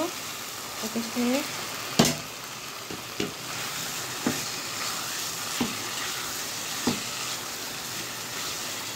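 Eggs go into a sizzling fried spice paste for egg korma, a constant crackling fry with several brief knocks and clatters of utensils, and a voice briefly audible early on.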